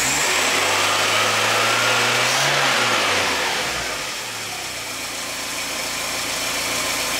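A car engine is revved up in the garage, rising then falling back toward idle, loud and close with no talk over it.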